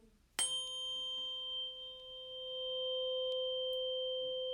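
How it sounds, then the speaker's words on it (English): A struck tuning fork gives a sharp metallic strike, then rings on as a pure steady tone with faint higher overtones, sustained and clear for several seconds with no talking. "we don't want to hit this against the side of a table and damage our tuning fork"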